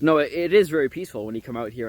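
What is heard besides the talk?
No everyday noise stands out behind the speech.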